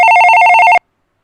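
A single short burst of an electronic telephone ring on a livestream's call-in line, a bright warbling trill heard loud and close for under a second before cutting off abruptly to silence.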